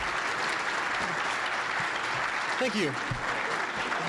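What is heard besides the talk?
conference audience applause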